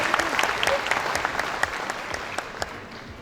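An audience at an insurance trade fair opening applauds to welcome the chairman of the Insurance Association of Turkey onto the stage, a full, steady burst of many hands clapping that fades slightly toward the end.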